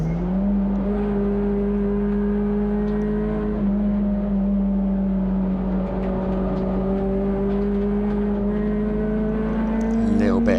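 Race car engine lapping Cadwell Park during a CSCC Tin Tops saloon car race, a loud steady in-car drone that rises and falls through the gears with throttle changes, continuous and close throughout.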